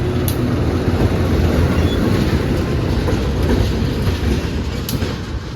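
A locomotive running light, without its carriages, moving to push the Parahyangan train, gives a steady, continuous low rumble of engine and rail noise with faint clicks of wheels on track, fairly close and with no talking.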